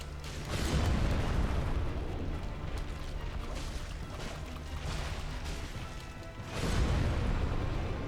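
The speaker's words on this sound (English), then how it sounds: "Alright, we're gonna let him explode" An enemy blows up in Dark Souls Remastered, a broad rumbling roar that swells in, holds loud and dense for several seconds, then surges again at the end, with no talk over it.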